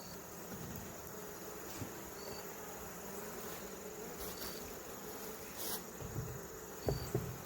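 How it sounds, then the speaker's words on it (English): Honey bees buzzing in an opened hive, a steady dense hum of many insects close by with occasional louder passes near the microphone and faint handling noises toward the end. "Still seem to have quite a strong number of bees in here."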